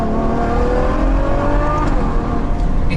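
Mercedes SLS AMG V8 revving hard after a downshift into second gear, a loud, steady roar with rising pitch sweeps close to the car, no talking.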